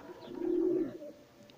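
Racing pigeons coo in a loft, a single soft, low rolling coo that swells and fades over about a second, close by and alone with no talk.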